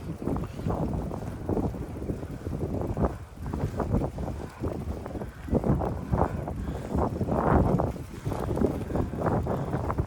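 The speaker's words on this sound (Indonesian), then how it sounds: "Anginnya dingin." Cold wind gusts across the microphone during a bicycle ride in the Netherlands, making a low, rumbling buffet that swells and fades unevenly, with no speech.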